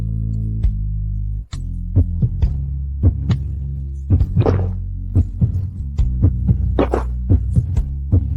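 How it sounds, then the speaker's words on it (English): A heartbeat sound effect thumps in quick, regular low pulses over a steady hum, with a brief dropout early on and slightly irregular beats later. "Why was my heart beating so fast?"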